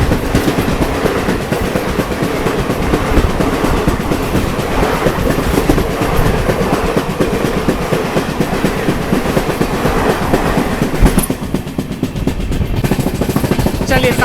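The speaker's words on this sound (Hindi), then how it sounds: "सामने से आ रही है न्यू दिल्ली से चलकर है तिरुवनंतपुरम सेंट्रल को जाने वाली आपकी केरला एक्सप्रेस।" Kerala Express passenger train running from New Delhi to Thiruvananthapuram Central passes close by, a loud continuous rumble with rapid clickety-clack of wheels over rail joints throughout, easing briefly near the end.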